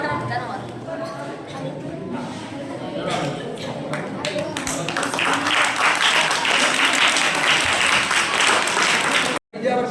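Audience applauding at a school event, a broad steady wash of clapping that swells and grows denser toward the end before cutting off briefly.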